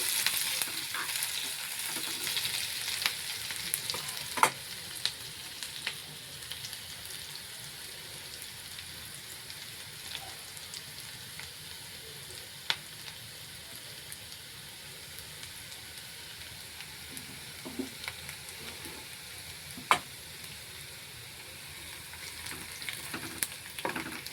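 Onions fry in a pan for a Bengali fish curry while being stirred. Fairly quiet, continuous sizzling runs throughout, with scattered sharp clicks and scrapes from the spoon.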